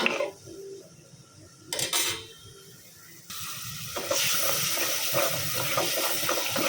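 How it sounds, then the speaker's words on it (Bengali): Snakehead fish and potatoes going into a pot of cooked-down spice paste: metal pot and utensil clatter, then a loud, steady hissing sizzle that takes over and continues. "এখন হলো গিয়ে আলু আর শোল মাছটা দিয়ে দিচ্ছি"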